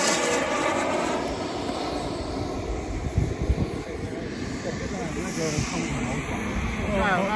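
A 3-meter Viper model jet, a K-320 G5, roars loudly and steadily throughout, with excited voices talking over the engine noise.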